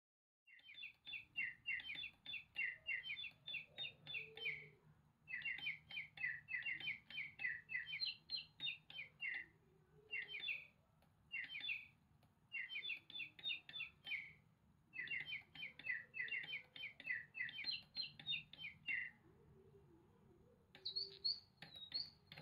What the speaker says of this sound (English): Let's get Ruby Bell singing with Love the Digibird.